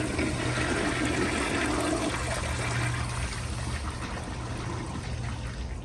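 A 1980s American Standard Afwall toilet flushes at reduced water pressure, a steady rushing wash of water that runs loud and unbroken from start to finish, too weak to build a siphon.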